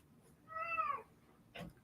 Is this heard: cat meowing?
yes